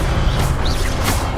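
The Levioso levitation spell in Hogwarts Legacy is cast as a short, loud magical whoosh with a rushing, crashing texture, lasting just over a second.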